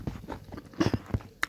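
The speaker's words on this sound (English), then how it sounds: "Now they chop like this." Ingredients for Igbo bitter leaf soup are chopped in an uneven run of close, crisp knocks and crunches, with a few louder hits near the end.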